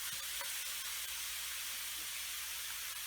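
Vegetables such as capsicum, carrot, peas, corn and cauliflower sizzle and fry in a pasta pan, a steady close hiss with faint crackles and no talking.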